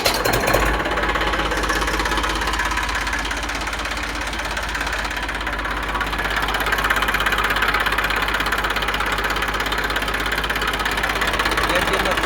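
An Eicher 380 tractor engine idles loud and close, a continuous rough diesel knock that holds steady throughout.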